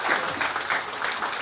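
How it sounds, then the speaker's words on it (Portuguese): Audience applause at a Portuguese-language event, a steady wash of clapping filling the short stretch without pause or a clear voice above it. "Uma força de palmas para o Eduardo Kivo"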